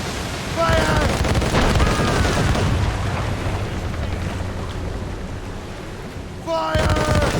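Ship cannons fire in a rolling broadside in the Assassin's Creed Rogue video game, a dense, loud roar of booms sustained for several seconds, with a shouted voice breaking in at the start and again near the end.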